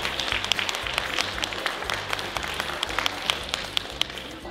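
An audience at a seniors' Father's Day performance claps for several seconds, a dense, lively patter of many hands with sharper individual claps standing out, close and fairly loud.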